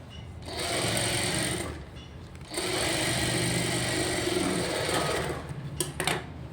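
A sewing machine runs steadily while stitching around the folded edge of a blouse, two long continuous bursts with a short pause between and a few clicks at the end.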